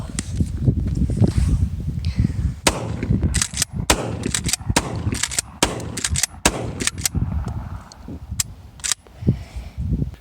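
A Canuck Regulator or Defender shotgun is fired outdoors in a rapid string of sharp, loud blasts at uneven intervals, with shuffling and handling noises between shots.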